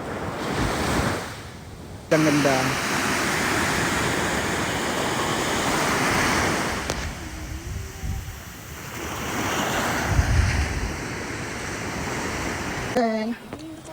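Sea waves at a beach: a loud, continuous rush of surf mixed with wind buffeting the microphone, and a few brief spoken words and exclamations heard over it.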